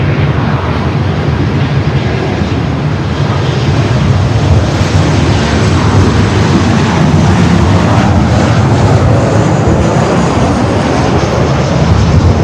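A Delta Boeing 737 jet at Los Angeles airport roars loudly and continuously, a broad, dense engine rush that holds steady throughout.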